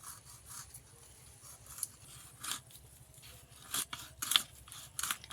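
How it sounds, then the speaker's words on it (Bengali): A boti blade scrapes and slices bhetki fish off the bone for paturi, giving short rasping cuts in irregular bursts, close and fairly quiet. "আমি বটি দিয়ে ছাড়িয়ে নিচ্ছি।"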